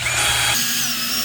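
A power drill drives a screw into a wooden mold board, a brief high whine that drops in pitch partway through as the screw seats.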